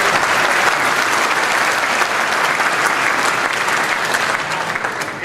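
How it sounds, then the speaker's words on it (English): Sustained applause from a conference audience at the opening ceremony of the Euro Attractions Show in Berlin, a dense, steady wash of many hands clapping close by that tapers slightly at the end. "Have another round of applause for folks who are here."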